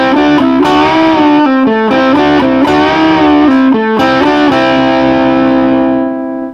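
Overdriven electric guitar plays a 12-bar blues riff in A at full speed, a quick run of punchy distorted notes ending on a long sustained note that fades, loud and up close with no talking.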